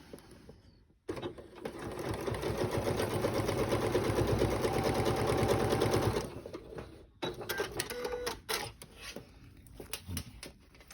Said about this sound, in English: and now tops, stitch along the edge, closing up your lining